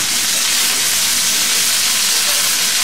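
Cabbage and chopped long beans fry in a pan with a loud, steady sizzle and hiss that holds throughout, no talking.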